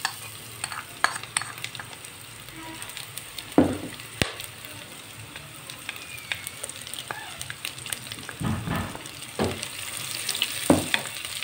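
Ginger garlic paste frying in hot ghee for aloo matar biryani, with a soft steady sizzle broken by repeated spoon scrapes and clanks as it is stirred, no talking.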